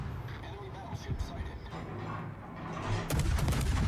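Battleship main guns, including a North Carolina, fire in a naval warfare game, with muffled booms and rumbling under ongoing speech, building to a louder, sharper volley near the end.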